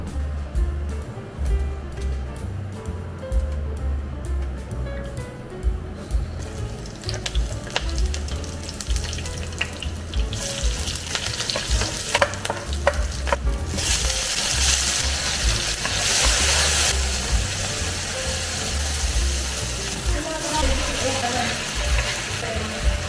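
Squid sizzles as it is sautéed in a pan on a stove, a steady close frying hiss that swells louder partway through, with occasional stirring scrapes and clicks.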